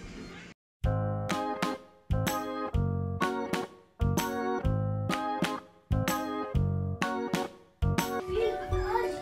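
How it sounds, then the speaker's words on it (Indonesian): Eggs are whisked in a bowl for a caramel custard pudding, one whole egg and one yolk. The whisk strikes the bowl in a steady run of loud, ringing clinks, separated by brief gaps. "Sekarang kita kocok telur."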